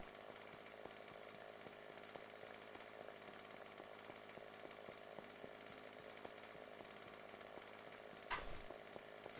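A chainsaw in a video game runs steadily throughout, a continuous buzzing drone at moderate level with one sharp burst near the end, no voices.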